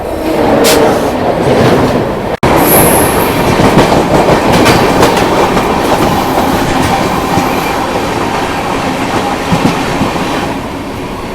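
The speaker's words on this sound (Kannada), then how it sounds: "ಸೀಮಾಂಚಲ್ ಎಕ್ಸ್ಪ್ರೆಸ್ ಈಗ ಕ್ರಾಸ್ ಮಾಡೋದು ನೋಡ್ರಿ" Seemanchal Express, running from Jogbani in Bihar to Anand Vihar Terminal in New Delhi, passes close by with a loud, sustained rumble and steady clickety-clack of wheels on rail joints, with no one talking.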